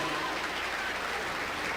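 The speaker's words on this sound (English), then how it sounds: "Please join us in giving a big, well-deserved round of applause to the United States Marine Corps" Steady, dense applause from a crowd filling a school gymnasium at a high school wrestling meet, a continuous even wash of clapping with no pauses, heard from within the audience.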